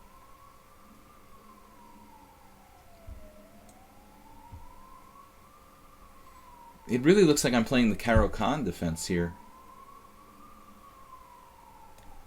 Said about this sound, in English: You guys get the pleasure of the ambulance now